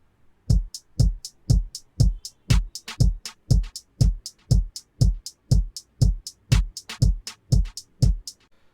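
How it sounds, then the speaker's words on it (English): A dry drum beat plays alone, a steady kick-and-hat pattern with crisp hits about twice per second, no bass or other instruments. "then we have our drums, which sound like this without the bass"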